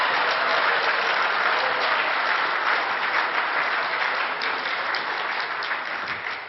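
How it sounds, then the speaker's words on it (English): A crowd gives poker legend Doyle Brunson a standing ovation, dense and loud clapping from many people that holds steady before easing slightly toward the end. "How about a nice standing applause for Doyle Brunson?"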